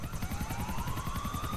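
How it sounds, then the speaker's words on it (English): Steady rhythmic chopping of police helicopter rotor blades overhead in the video game GTA IV, loud and continuous with a rising whine, no voices. "there's a helicopter already above them"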